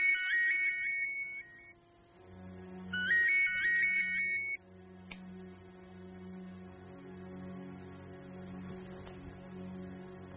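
A phone ringtone chimes twice in short melodic bursts, then stops with a click, leaving a low background hum with faint voices.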